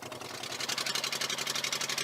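The engine of a migrant boat at nightfall runs with a faint, uneven pulsing chug, sounding rough and laboured just before it dies out.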